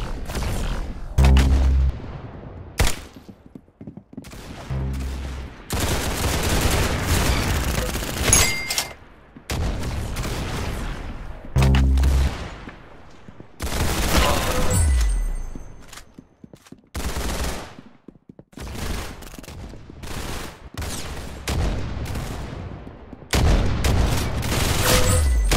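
Gunfire in the video game Arsenal: repeated loud booming shots and rapid bursts in clusters across the whole stretch, some heavy and echoing, with brief quieter gaps between volleys.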